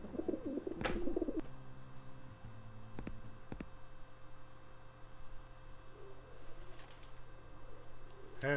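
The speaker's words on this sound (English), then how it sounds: "So now I can feed the pigeons." Pigeons coo softly and repeatedly, close by but faint, as they are fed popcorn, with a brief voice and a few sharp knocks early on over a quiet background hum.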